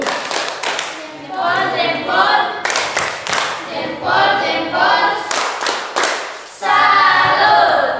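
A small group in a classroom claps hands in short rhythmic bursts, loud and close, broken by brief pauses and a few thumps, with some talking between bursts.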